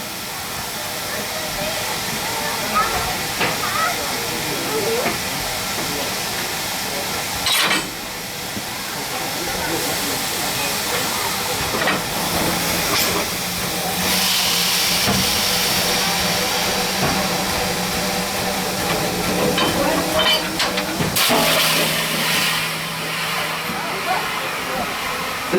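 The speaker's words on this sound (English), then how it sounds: "The steam locomotive pulling our train today is an icon of the Strasburg Railroad." Steam locomotive Number 90 of the Strasburg Railroad hisses continuously near Paradise, a broad, loud rushing noise with occasional sharper bursts, heard from a passenger car.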